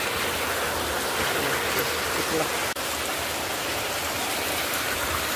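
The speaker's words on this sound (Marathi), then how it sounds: "पर्याचं पाणी आहे. ते जोरदार वाहतंय." Rainwater runs strongly in a stream beside a house on its way down toward a river, a steady broadband rush with constant wash and no break from start to end.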